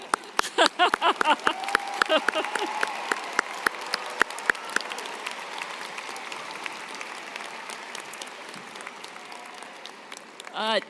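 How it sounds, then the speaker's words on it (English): Scattered claps start up and quickly build into a brief round of applause from an audience at a community college commencement, fading toward the end with voices mixed in. "let's do a quick clap"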